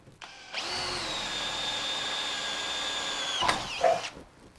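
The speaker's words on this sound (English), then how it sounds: "So we're going to drill a hole in the metal with a drill bit." A power drill whines steadily as it bores into a steel plate for a few seconds, then stops with a couple of clattering knocks.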